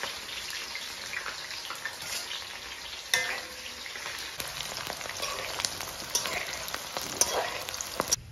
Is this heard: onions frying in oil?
yes